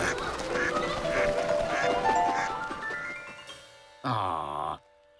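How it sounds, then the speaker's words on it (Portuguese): Cartoon ducks quack in a flock, a burst of loud nasal honking calls near the end following gentler music and bird sounds. "Ah, é só um bando de pássaros."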